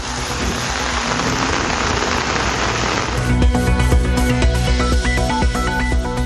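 Heavy summer rain pours down steadily, a dense close hiss of drops drumming on surfaces throughout, with no voices.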